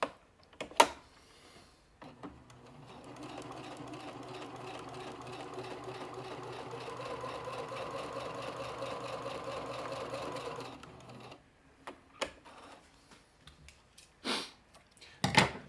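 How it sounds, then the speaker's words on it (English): A sewing machine stitches fabric for a soft sculpture, running in one continuous steady whir of about eight seconds, framed by a few sharp handling clicks and taps before and after. "I'm going to resolve some of the clunkiness of hand sewing by using a sewing machine."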